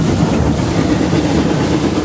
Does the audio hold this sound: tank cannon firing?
no